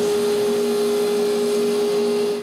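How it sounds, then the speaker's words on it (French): A power saw cutting four stacked wooden boards to length, its motor giving a loud, steady, close whine with a constant hum that holds unbroken for the whole stretch and then eases slightly at the end. "je les empile bien droites et je les coupe à la bonne longueur"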